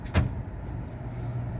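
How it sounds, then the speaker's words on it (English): A single dull clunk from a relay or contactor inside a Kempower EV charging unit as a CCS charging session starts, one short thump followed by a low steady hum, no talking. "Big clunk from a relay or contactor."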